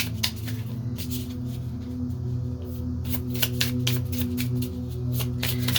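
Tarot cards are handled, shuffled and laid out up close in a rapid run of crisp flicks and slaps, with a steady low hum running underneath and no speech.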